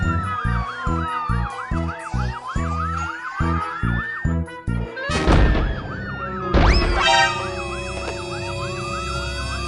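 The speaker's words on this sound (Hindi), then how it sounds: "पुलिस की गाड़ी।" A police car siren in a cartoon city scene, its wailing tone sweeping up and down over rhythmic thumping music, loud and close, with heavy impact thuds partway through and no talking.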